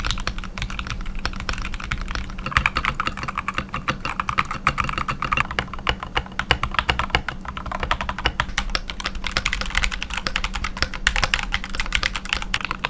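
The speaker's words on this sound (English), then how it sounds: "keyboard sounds, but they get more expensive every 3 seconds" Rapid, continuous clacking of a mechanical keyboard, keys tapped in quick irregular bursts close up, with no talking.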